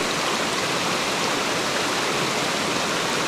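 A waterfall roars steadily at close range, a dense unbroken rush of falling water that fills the whole few seconds with no voices over it.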